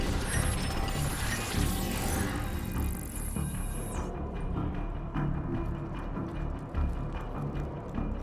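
Crossbow bolt mechanism in Call of Duty Black Ops Cold War, a run of close mechanical clicks and ratcheting with a high whine that cuts off midway, then steadier gear-like ticking, no voices.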